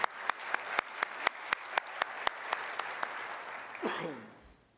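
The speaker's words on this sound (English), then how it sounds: "So if we can give them all a round of applause." Applause from a smallish group at a city State of the City address in Pleasanton, with sharp, distinct claps at a steady rhythm that swell into a brief cheer and then fade.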